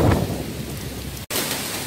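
Heavy rain pours steadily during a thunderstorm, with a low rumble of thunder near the start and a brief cut in the sound partway through.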